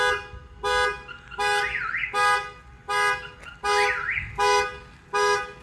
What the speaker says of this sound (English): Something's happening. The alarms are going off.